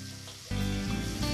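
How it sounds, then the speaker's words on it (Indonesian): Salted fish frying in a pan over a wood-fired stove, a quiet background that suddenly erupts into loud, dense sizzling and crackling partway through and keeps hissing steadily. "ini aku mau goreng ikan asin dulu ya"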